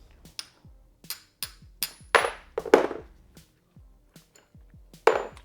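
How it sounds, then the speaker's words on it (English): A hammer tapping a brake pad pin on a BMW S1000RR motorcycle's rear brake caliper, a series of about a dozen sharp metallic taps in irregular rhythm, close and clear, some ringing briefly. "All it's going to take is a couple of taps from a hammer here."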